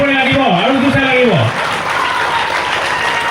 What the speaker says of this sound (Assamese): হাত চাপৰি লাগিব আৰু জোৰছে লাগিব